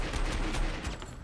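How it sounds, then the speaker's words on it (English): Rapid bursts of automatic gunfire in the video game Army of Two, a dense, crackling fusillade of overlapping shots across the short moment, fairly quiet in the mix. "It's gunfire."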